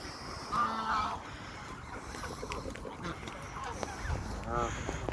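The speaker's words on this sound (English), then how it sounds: "Lots of swans and ducks." Swans and ducks gather by the water, with a couple of honking, quacking calls rising over steady outdoor background noise, one near the start and another toward the end.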